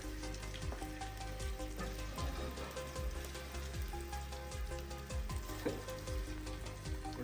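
Steady sizzling and frying as mail is cooked in a video game kitchen, a continuous crackling hiss with small stirring clicks, moderately quiet and unbroken, no voices.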